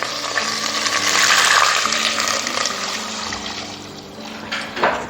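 Water pours steadily into a pan to make chicken stock for Penang char hor fun in a home kitchen, a continuous splashing rush that eases off and then ends with a brief clatter.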